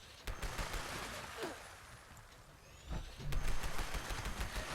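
Rapid gunfire from the Pepper Shaker, a laser-firing weapon in Fallout 76, crackles in moderate bursts with a brief lull in the middle, then resumes more densely toward the end.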